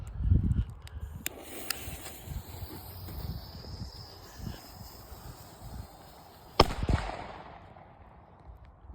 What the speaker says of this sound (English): This is the Hulk Salute firecracker.